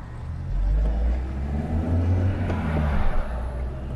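A classic car's engine pulls hard while accelerating on a road test: a deep, steady low rumble that swells and holds, close and continuous, with no talking.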